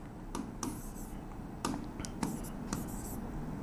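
Chalk or marker scratches on a classroom board during a chemistry lesson: short, sharp strokes and taps in an irregular rhythm, close and crisp over a low room hum.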